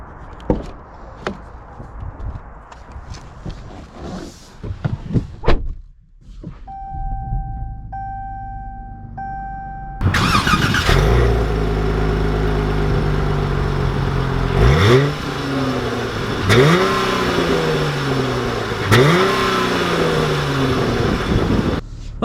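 A 2020 Dodge Challenger 50th Anniversary Edition fires up with a loud whir and roar, then idles heavily and revs several times in rising, falling sweeps, close and powerful.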